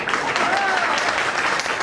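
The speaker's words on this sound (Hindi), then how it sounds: "और अब इससे दुगनी ताली इनकी घरवालियों के लिए बजा लो।" Steady applause from an audience at a community organisation's anniversary function, a continuous wash of many hands clapping together at moderate loudness, with some voices faintly mixed in.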